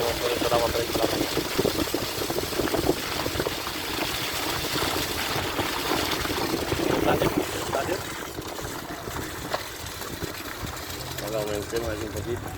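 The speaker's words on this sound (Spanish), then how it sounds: "viene todo el agua por la cañada" Rainwater rushes down a flooded gully on a road near Argamasilla de Alba, a steady broadband churning flow heard close, with a person talking over it.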